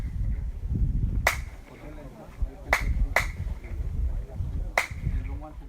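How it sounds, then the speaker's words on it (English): Hand claps at the Chichén Itzá pyramid in the Yucatán, Mexico, ring out as four sharp separate cracks, each followed by a chirped echo bouncing back, over steady crowd murmur and distant chatter. "It's so clever how you can clap and the sound comes back to you."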